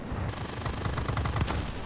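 Rapid cannon and machine-gun fire from an F-86A jet fighter in the World of Warplanes air-combat game, a loud continuous burst of dense, rattling shots lasting nearly two seconds with no talk over it.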